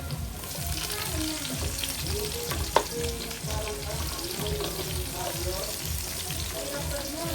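Onion and garlic sautéing in a new wok, a dense close sizzle with rhythmic stirring and scraping throughout and one sharp clack midway.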